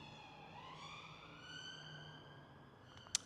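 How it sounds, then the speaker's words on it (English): A faint, distant siren wails with a slowly rising tone over low background hum, ending with a brief sharp click. "Sirens?"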